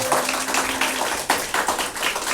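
A Sunday worship congregation claps in encouragement, with a full, even round of handclaps filling the room at steady volume, plus a brief tone near the start.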